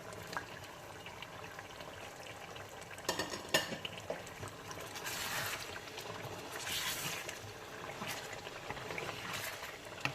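Masala and meat pieces being fried again and stirred in a pot with added dried plums, soft sizzling under repeated scraping and clinking of a spoon against the metal, close and fairly quiet, coming in irregular bursts.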